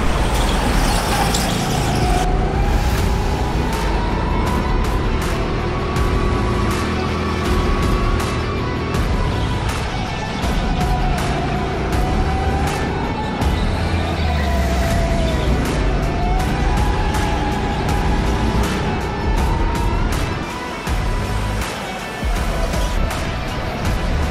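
Sodikart RT8 go-kart engine racing around an indoor track, a loud continuous buzzing drone that rises and falls in pitch as the kart accelerates and brakes through corners, steady and close throughout.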